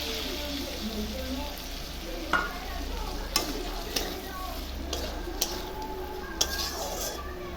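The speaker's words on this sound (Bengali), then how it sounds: "আলুটা একটু ভাজা ভাজা হয়ে গেছে, এখন এই পোস্ত বাটাটা দিয়ে দিচ্ছি।" Potatoes stir-fry in a pan with poppy seed paste: a steady soft sizzle under repeated scraping and clinks of a spatula against the pan, close and moderately loud.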